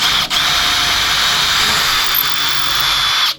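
A small pilot drill bores holes during a camping boot drawer build for a Land Rover Discovery 3, giving a steady, close, high-pitched whirring whine that runs almost unbroken and cuts off at the end.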